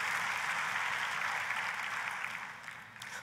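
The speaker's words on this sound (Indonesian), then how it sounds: "Ayo kita kasih tepuk tangannya yang paling meriah buat Tuhan kita" A church congregation applauds for God during a service, a steady wash of clapping from many hands that holds briefly then begins to taper off, heard from a moderate distance.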